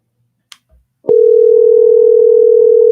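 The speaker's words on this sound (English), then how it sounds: "So I'm just going to dial it from here." A landline telephone dial tone comes on after a couple of soft handset clicks and holds steady and loud to the end, with no voices.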